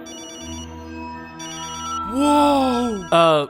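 A cartoon phone ringtone for an incoming call from a cousin, a bright tonal melodic ring with repeated notes, loud and close, ending in a rising musical sting.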